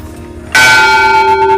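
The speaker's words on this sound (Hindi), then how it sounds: "बहुत बड़ा घंटा है, बहुत ध्वनि तेज है इसकी।" A very large old temple bell at an ancient Mahabharata-era pilgrimage site in Singhana, Jind, Haryana is struck once, a loud sudden clang that rings on with a long sustained tone and no talk.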